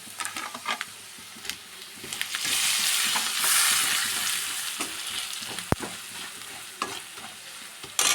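Brinjal and potato curry with spices, garam masala and salt is stirred and mixed in a pan, giving a steady sizzling scrape that swells in the middle, with a few sharp utensil knocks, no talking.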